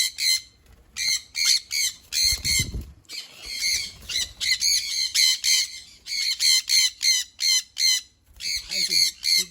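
Adult sun conure parrots squawk loudly at close range in rapid, repeated harsh bursts. A short rustle or thump briefly interrupts them, and a little faint background noise is also present.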